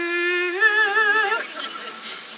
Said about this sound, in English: And then he blows the trumpet and it sounds like this.